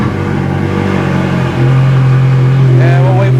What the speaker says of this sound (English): And we'll wait for the cold start to finish